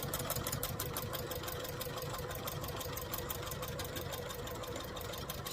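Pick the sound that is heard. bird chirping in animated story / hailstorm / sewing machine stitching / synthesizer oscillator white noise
sewing machine stitching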